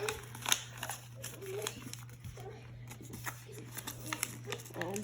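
Paper crinkles and rustles close up as the landing gear of a paper plane is folded, soft crisp crackles over a faint steady hum, with light speech in the background.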